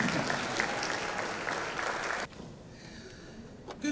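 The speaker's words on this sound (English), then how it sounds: "The louder you clap, the faster she" Hall audience at a social innovators awards ceremony clapping for a director coming up to give the welcome address, sustained dense applause that cuts off abruptly partway, leaving quiet room tone and a brief stir at the end.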